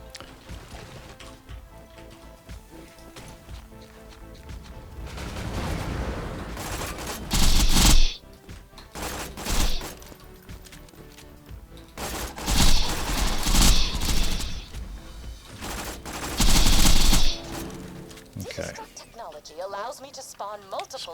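SMG fire in Borderlands 2, heard as several loud rapid bursts over game music and effects, with a person talking through the action.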